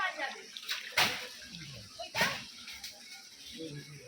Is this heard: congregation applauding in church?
no